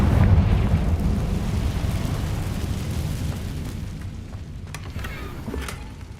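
The Confringo explosion spell in Hogwarts Legacy lands as a deep, heavy boom that rolls into a long fading rumble, followed by a few faint crackles and pops.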